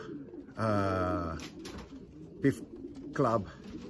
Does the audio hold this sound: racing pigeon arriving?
yes